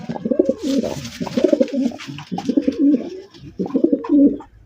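A racing pigeon coos loudly and repeatedly in rolling, throaty bursts, close up at a pigeon farm, with faint background hiss.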